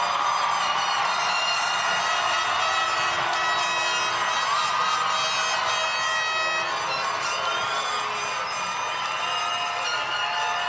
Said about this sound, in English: Please stand and face your family and friends in the bleachers so they can cheer you on a little bit more.